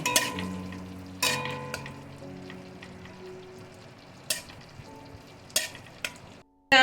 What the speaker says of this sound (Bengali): এবার গ্যাসে একটা কড়াই চাপিয়ে দিয়েছি তাতে দিয়ে দিচ্ছি এক চামচ রিফাইন অয়েল চামচ বাটার লঙ্কা ভেজ দিয়ে ভেজে তুলে রেখে দেব